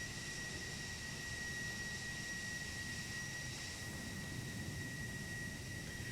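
Video game jet fighter plane with afterburners, a steady, even roar of engine noise with a thin high whine on top, constant and fairly soft throughout, without speech.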